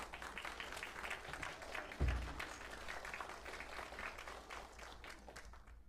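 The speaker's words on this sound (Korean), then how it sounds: "박수 보내주시면 감사하겠습니다" Audience applause at a lecture event, broad steady clapping from a seated crowd sustained for several seconds, with a brief low thump partway through and no speech over it.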